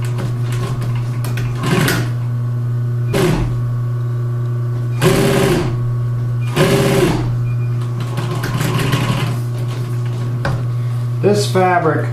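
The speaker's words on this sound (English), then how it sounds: "the cushion zipper was on top of the face cushion, and we're going to sew right along here" A sewing machine stitches along a chair cushion zipper, its steady, even hum running throughout up close, broken by a few louder bursts of speed.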